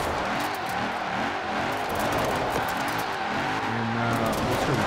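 A 1987 Mercedes-AMG S65 Hammer Coupe does a redlined burnout, its engine roaring steadily with screeching tire squeal running loud and continuous throughout.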